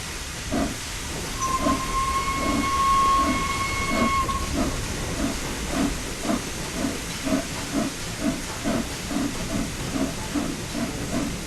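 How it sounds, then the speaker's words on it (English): Steam locomotive in Train Sim World 4 running with steady rhythmic chuffing and a constant hiss, with a sharp steam whistle tone sounding early on, loud and close throughout with no talk. "Remember that power delivery is delayed in a steam locomotive, and applying too much power too early can cause wheel slip."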